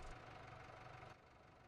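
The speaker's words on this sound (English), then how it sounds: "Start the engine." Tractor engine in Farming Simulator 2017 running with a steady mid-pitched rumble and knocking vibration, then dropping slightly in level near the end, continuous and close with no talk.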